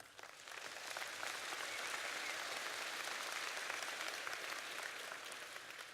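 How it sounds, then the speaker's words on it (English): An audience at a 2018 school district convocation breaks into sustained applause, a dense steady clapping that swells quickly, holds for several seconds and then tapers slightly, with no talking over it. "our Board of Education deserves a huge round of applause"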